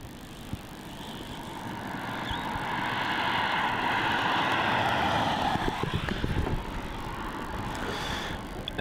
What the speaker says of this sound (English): So we see going down the end of runway 16 now, we have that Qantas A330.